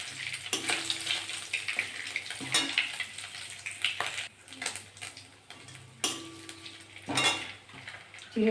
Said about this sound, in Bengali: আমি ওই তেলের মধ্যে দুটো তেজপাতা দিয়ে দেবো, গোটা জিরে দিয়ে দেবো